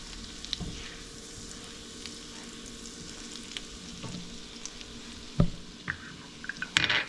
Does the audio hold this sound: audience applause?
no